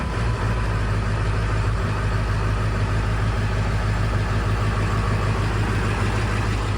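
A car engine idles loud and close with a dense, steady rumble that never changes pace, with no voices over it.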